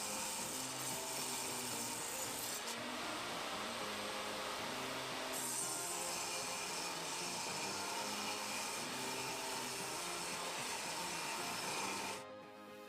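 A saw steadily rips half-inch strips from a scrap 2x4 board, making a loud, continuous whine and grind that holds for about twelve seconds before it tapers off.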